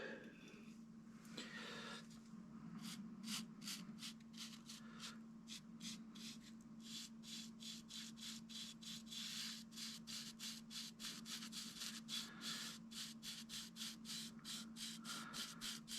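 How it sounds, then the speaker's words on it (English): Edges of a laser-engraved wooden plaque being sanded and bevelled by hand, a rapid train of close rasping strokes over a steady background hum, quiet and uninterrupted. "I have everything sanded real good, then I go back and bevel those edges"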